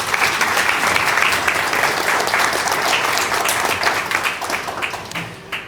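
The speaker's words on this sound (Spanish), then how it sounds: "Un fuerte aplauso también para el padre Edward." A book-launch audience at a university event breaks into sustained, dense applause, loud and full from the start, with many hands clapping together before it slowly thins toward the end.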